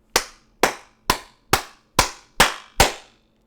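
Seven single hand claps, loud and close, evenly spaced about half a second apart, each sharp with a short ringing tail and no talk around them.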